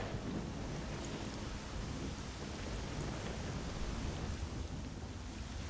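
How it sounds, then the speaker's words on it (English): A thunderstorm in S.T.A.L.K.E.R.: Shadow of Chernobyl: dense, continuous rainfall with low rolling thunder, a loud steady wash with no voices. "Do you see the rain and the thunderstorm and the lightning?"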